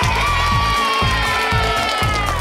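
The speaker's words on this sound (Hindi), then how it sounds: "चलिए सब चाचा और उसके डैड के लिए ताली बजाते हैं।" Children cheering and shouting together in an animated Hindi kids' cartoon as a class applauds a boy and his dad for recycled costumes, a loud, steady crowd din over bouncy background music.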